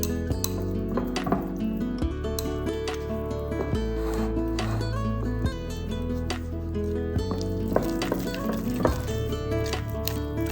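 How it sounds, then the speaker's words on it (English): Flour being stirred into sourdough in a bowl gives soft rubbing, squishing scrapes that run steadily beneath continuous background music, with occasional light clinks against the bowl. "Just gonna put my flour in here and I'm gonna go for just 3/4 cup right now and just see how this mixes."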